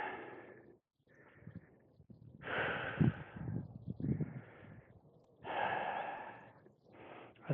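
Short, shallow, slightly elevated breaths come in quick alternating inhales and exhales, close and fairly quiet, with brief pauses between them.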